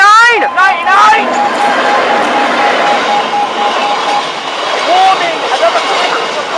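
A freight train rolls loudly past Hykeham station, a steady rumble and rattle of wagons. A sustained tone and a few short whistle-like calls ride over it, and voices are heard over the noise.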